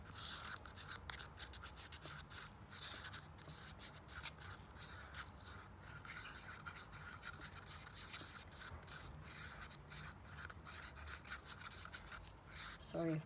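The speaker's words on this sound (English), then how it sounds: "Sorry about the scraping noises, assuming you can hear them at all." Faint, continuous rubbing and scraping from a stick stirring resin in a cup, a soft rasping that repeats in quick irregular strokes throughout.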